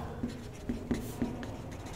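Marker or chalk writing on a board during a physics class lesson, several faint, quick taps and strokes in an irregular rhythm, heard up close and quiet.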